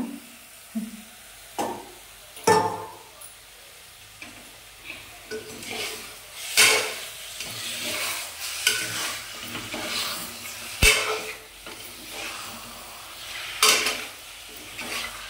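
Country chicken, washed and squeezed of water, sizzles and frys in a pan while being stirred, with repeated scraping strokes and louder bursts of spatula clatter over a steady hiss, heard alone at close range.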